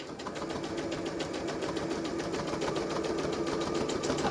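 Sewing machine stitching oven gloves made from sofa fabric, running steadily with a continuous fast motor whir and needle chatter throughout, fairly close and unbroken, with no talking.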